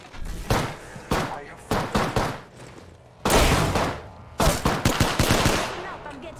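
Automatic weapon fire in the shooter game Apex Legends, with repeated loud bursts of rapid shots in quick succession and brief gaps between them, close and punchy.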